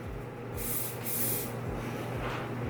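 A dry shampoo aerosol can with a previously clogged nozzle sprays in two loud, close hissing bursts, each about half a second long, followed by a fainter short spritz.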